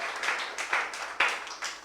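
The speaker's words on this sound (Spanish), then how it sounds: "Dale un aplauso al Señor, hermano, si tú crees eso" A church congregation claps and applauds in uneven bursts, several sharp claps rising and falling over about two seconds, fairly close and with no talk over it.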